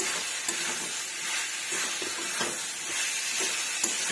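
Boiled food being stirred with spices in a pan, a soft continuous sizzle and hiss with light scraping strokes every second or so, close by and fairly quiet.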